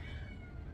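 A pet cat in a home kitchen while chicken is being cooked lets out a faint, short, strained meow against a noisy background, heard alone without speech.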